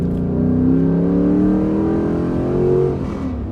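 A Dodge Durango R/T engine with an aftermarket intake revs up loudly and climbs in pitch, holds, then revs again before easing off, close by with no voices.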